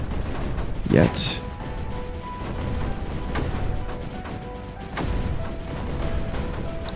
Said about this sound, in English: I do want to bring these mortars forward because they just deal so much damage.